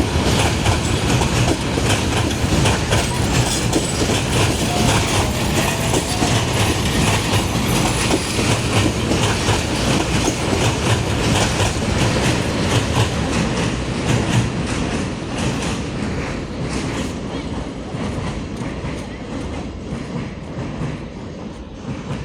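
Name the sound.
Burimari Express train crossing Rahmatla bridge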